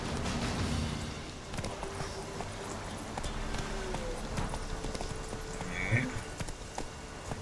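The horse Roach in The Witcher 3 gallops through a forest, rhythmic hoofbeats running steadily under a low ambient bed, with someone briefly speaking and a sharper thud near the end.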